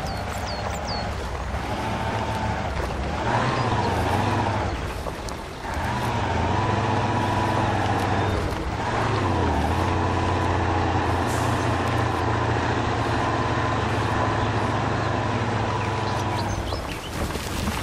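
Heavy off-road truck in the Spintires driving game, engine droning steadily at low revs with shifting whine and a brief dip, loud and continuous with no talk.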